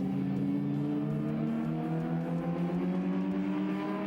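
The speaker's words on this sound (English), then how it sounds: "Dion van Vuren has his mirrors full of the red and white Datsun of Buerta, who is doing his best to close the gap to the Escort." Racing cars on a circuit, a red and white Datsun chasing a Ford Escort, their engines droning loudly and steadily with a slowly rising pitch as they hold the throttle, no voices.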